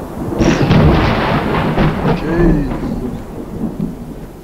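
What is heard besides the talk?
thunder in the video game Unturned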